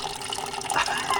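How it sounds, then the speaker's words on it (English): Water gushes and trickles out of the engine of a Model T pickup. The pour is brief and close, with a steady liquid splash. "There was a lot of water in this thing."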